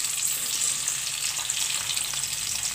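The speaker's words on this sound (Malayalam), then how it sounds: "ഇതൊന്ന് ചെറുതായിട്ടൊന്ന് വഴറ്റി കൊടുക്കാം." Garlic, shallots and fenugreek seeds sizzle steadily in hot oil in a pan for a Kerala sambar masala, a continuous close, dense frying hiss with no pauses.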